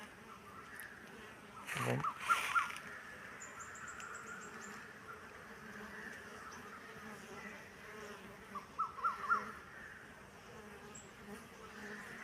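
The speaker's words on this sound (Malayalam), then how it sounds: "പെട്ടിയുടെ വിടവുകളുള്ളിടത്തും എല്ലാം ഈച്ചകൾ ഇപ്പോൾ കയറുകയും ഇറങ്ങുകയും എല്ലാം ചെയ്യുന്നുണ്ട്" Honeybees buzz around a wooden hive box while they enter and leave through gaps in the box during busy morning foraging, a steady low hum under occasional clicks and brief sounds.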